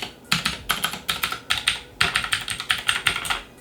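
Brisk bursts of typing on an AJAZZ AK33 mechanical keyboard, with sharp, close, clicky keystrokes in quick rhythmic runs broken by short pauses.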